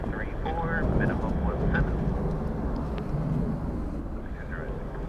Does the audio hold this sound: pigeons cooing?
no